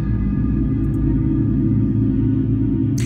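Synthesizer space ambience on the Goblin Cathedral preset, a loud steady low drone with layered sustained tones and faint high glints, with no talk over it.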